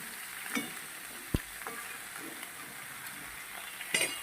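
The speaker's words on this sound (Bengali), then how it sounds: "সবজিটা বেশ সুন্দর করে আমি আগে ভেজে নেব একটু ভাজা ভাজা হতে থাকুক" Vegetables frying in a pan for a vegetarian curry, a steady soft sizzle running throughout with a few faint clicks and scrapes of a utensil, no voices.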